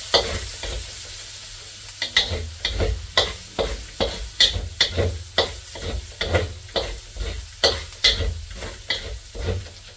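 Garlic fries in leftover longganisa drippings while a spatula scrapes the pan in a steady rhythm of repeated strokes over a constant close sizzle.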